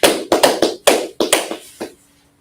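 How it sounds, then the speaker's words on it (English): Several hands clap in a quick, uneven burst of about eight sharp, close claps over two seconds, then the clapping stops and silence follows. "Let's clap it up for everybody in the chat right there"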